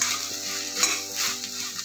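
Bitter gourd frying in a tempering for gravy, a steady close sizzle with occasional scraping of a spoon against the pan, and no voices.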